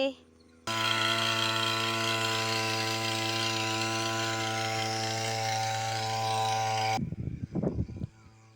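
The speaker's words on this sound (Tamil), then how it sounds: "இப்போ மருந்தடிக்க ஸ்டார்ட் பண்ணிட்டாங்க" A motorised pesticide sprayer engine running in a farm field, a steady, loud buzzing drone that starts abruptly, holds for about six seconds, then cuts off, leaving scattered rustling and handling noises.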